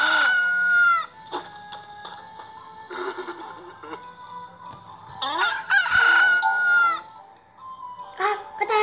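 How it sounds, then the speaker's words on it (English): A rooster crows repeatedly in a cartoon Bible story scene, loud, strained cock-a-doodle-doo calls rising and falling in several bursts, with clucking fowl between them and no one speaking. "When he heard the rooster crow"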